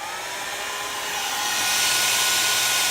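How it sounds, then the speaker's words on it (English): A blow dryer runs steadily as a close, loud broadband whoosh that swells slightly partway through, with a faint whine riding on top, alone. "I happen to have a blow dryer."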